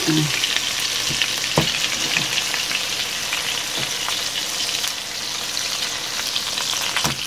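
Hamburger steak patties fry in a hot pan with a steady, loud, close sizzle, while a few sharp clicks and scrapes mark them being flipped one after another.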